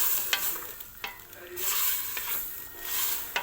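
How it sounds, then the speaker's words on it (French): Onions fry in a pan for Algerian lamb chorba over lowered heat. A spoon stirs them in repeated scraping strokes over a steady, fairly close sizzle. "je rajoute mes oignons sans le brûler"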